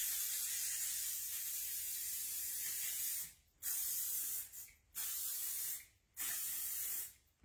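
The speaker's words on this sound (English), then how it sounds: "I'm going to just pull my hair back so I can do our setting spray." Makeup setting spray hisses as a fine mist in four bursts: one long continuous spray, then three shorter sprays separated by brief pauses.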